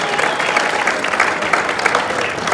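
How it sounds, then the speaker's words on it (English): A stand-up comedy audience at Saint Spyridon in Worcester claps in a dense, even burst of applause, close and loud throughout with a few scattered cheers mixed in. "Give yourselves a round of applause"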